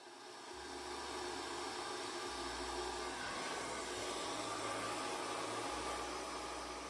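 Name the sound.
hair dryer blow-drying hair with a brush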